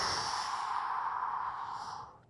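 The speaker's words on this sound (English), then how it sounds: "you're going to breathe in and out through the mouth 6 times" A single deep exhale through the mouth during a lower-body fascia stretching routine, a long, soft breathy rush that holds steady and then fades out, with no talking.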